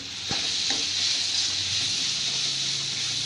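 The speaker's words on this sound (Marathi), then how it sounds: "त्यानंतर थोडा आपण गरम मसाला याला व्यवस्थित शिजवून घेऊ" Garam masala spices for samosa filling sizzle and fry steadily in a pan, a continuous close hiss with a couple of faint stirring knocks near the start.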